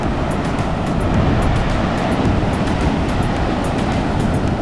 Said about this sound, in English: I haven't seen waves like that before.